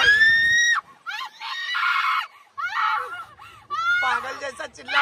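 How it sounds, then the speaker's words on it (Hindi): A girl on a swing screams in fear, with several loud, high, drawn-out shrieks broken by short gaps, close up and dominating the scene. "पागल जैसा चिल्ला मत, पागल जैसा चिल्ला मत, चिल्ला मत।"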